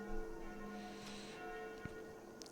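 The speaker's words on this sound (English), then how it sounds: "Those sound like the church's noontime bells." Church bells ring out at noon in the horror video game Sucker for Love: a faint, distant peal with sustained ringing tones and a few soft strikes.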